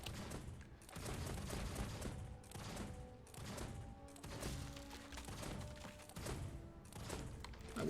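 Guns fire in bursts during Guild Wars 2 combat, tearing at tents and enemies: repeated loud volleys with thumps between them, coming in waves.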